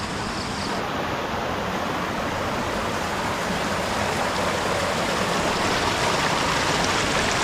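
Strong creek current rushing continuously in a rain-fed stream, a loud, steady wash of flowing water with no talk.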